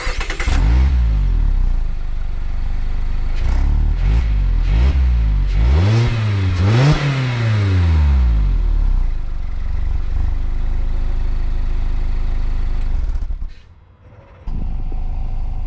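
Mazda MX-5 Miata RF GT with automatic transmission and Skyactiv-G engine revving through dual chrome-tip exhaust, several short throttle blips followed by a longer rev that rises and falls, then the engine settles to a steady idle close by.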